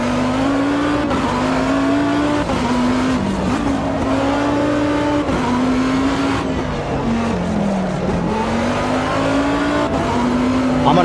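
A race car engine droning steadily in a racing video game on the Nordschleife, pitch rising and falling with gear changes and braking amid a pack of cars, loud and continuous throughout.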